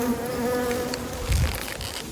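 Honeybees buzz around a knocked-over hive, a steady close drone of many insects with wings whining in layered tones and individual bees passing near.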